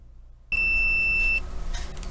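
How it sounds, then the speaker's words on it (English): A single steady high-pitched electronic beep from a multimeter continuity tester probing a dead Western Digital external hard drive, lasting just under a second, clear and close over faint background hiss. "And we're also getting a beep from that one."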